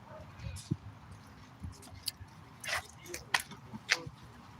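A dog woken by people screaming on scooters barks and yips a few times at a distance, short sharp bursts over background noise and low talk.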